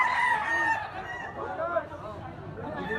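A stag, a young rooster for sale, crows loudly and up close in drawn-out, wavering calls that fill the moment, with some faint chatter behind.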